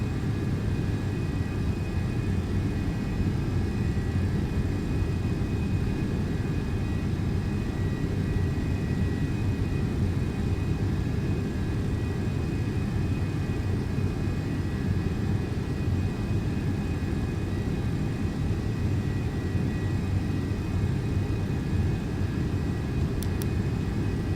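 MD-11F freighter engines at climb thrust in a flight simulator game, a steady, dense, loud jet roar with a low rumble that holds unchanged and continuous throughout, with no voices.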